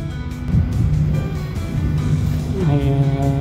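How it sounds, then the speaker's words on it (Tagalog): A car crossing a newly built bridge at the Pasay reclamation project near the MOA Complex seawall, engine passing close with a rising whine over steady outdoor background. "nakikita po natin yung kotse na dumaan dyan po sa ginawa nilang tulay"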